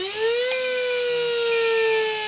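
Fantom 13.5T brushless electric motor spinning up on a dyno at 56 degree timing on a fully charged battery, a loud, high, steady electric whine that climbs quickly and holds near 30,000 RPM.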